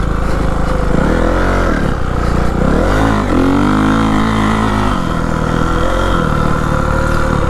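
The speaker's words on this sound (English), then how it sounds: "I'm riding my friend Brad's 450." A 450 dirt bike ridden on a dry motocross track in South Florida, its engine loud and close, revving up and down in repeated surges and steady runs throughout.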